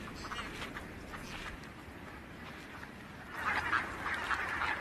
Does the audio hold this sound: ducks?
yes